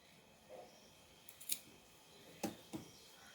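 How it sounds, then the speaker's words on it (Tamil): Scissors cut fabric for tailoring with a few soft, quiet snips spaced apart in an otherwise hushed room. "இதிலேருந்து 2 இன்ச் அளவுக்கு கம்மி பண்ணி நம்ம அதை வெட்டிடணும்."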